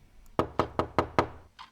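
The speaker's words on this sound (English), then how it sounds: "Whoever it was at the front door had knocked again." Five sharp, evenly spaced knocks on a front door ring out close and loud, followed by a brief faint sound.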